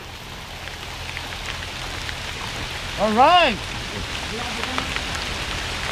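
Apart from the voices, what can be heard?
rain falling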